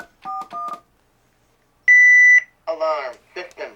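A 1992 CareTaker Plus home automation keypad beeps as its alarm system is disarmed: three quick key tones, then a longer steady beep, followed by a synthesized voice announcement.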